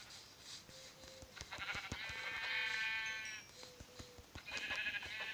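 Sheep in Minecraft bleat in short, wavering cries, several calls spread across the stretch with clicking footsteps and other game noises around them.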